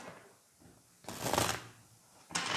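Tarot cards are shuffled in two crisp riffling bursts separated by a short quiet pause. The flapping, papery riffle sounds close, and there is no talk.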